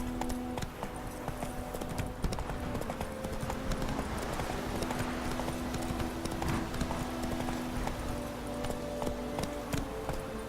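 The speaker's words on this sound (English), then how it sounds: "Run, Roach." Hooves of a horse galloping in the video game The Witcher 3, a steady rapid clip-clop over a dense game soundscape, lasting throughout with no talk.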